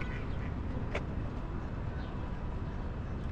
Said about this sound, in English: There's one duck here.